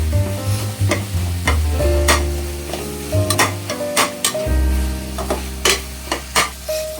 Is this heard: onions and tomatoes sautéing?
yes